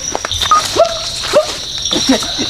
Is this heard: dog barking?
yes